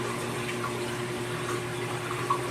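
Water flowing through the plumbing of a garage fish room for a 200-gallon saltwater reef aquarium, a steady, fairly loud rushing and trickling wash with a constant low hum beneath, no talk.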